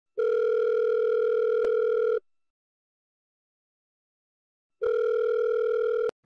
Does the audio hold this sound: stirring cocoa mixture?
no